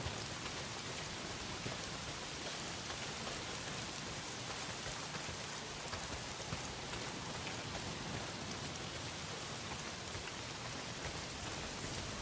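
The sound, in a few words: heavy rain in the video game Days Gone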